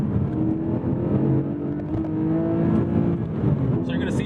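A 2024 Lotus Emira sports car pulls hard through a long gear, its engine droning steadily with a rising tone from inside the cabin.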